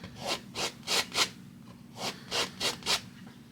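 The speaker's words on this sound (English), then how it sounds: "I scrape the excess away, leaving a little stain" Excess oil paint scraped off a canvas, eight rhythmic rasping strokes close by, in two groups of four with a short pause between them.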